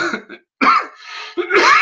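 A close, harsh bout of coughing, a few rough throaty bursts separated by brief pauses.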